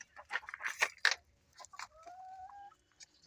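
A silky chicken hen clucks at feeding time, a close series of sharp, scratchy clucks followed by a drawn-out, tonal crooning call, fairly quiet with no talking.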